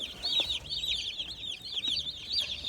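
A large brood of baby chicks chirps nonstop at close range, a dense, high, overlapping peeping that rises and falls with no talk.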